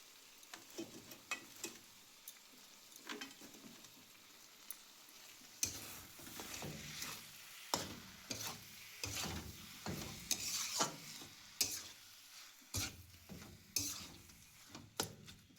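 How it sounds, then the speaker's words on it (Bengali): Bottle gourd pieces being stirred and fried in oil in a pan, giving a steady sizzle with repeated scraping stir strokes that grow louder and more frequent in the second half, with no talking. "এটাকেও সুন্দর করে আগে তেলে নেড়ে নিতে হবে।"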